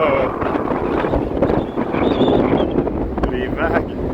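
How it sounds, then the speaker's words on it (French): Strong wind buffets the microphone on the Barbados coast while rough sea waves crash nearby, a loud continuous roar with surging swells; someone speaks briefly over it. "Les vagues."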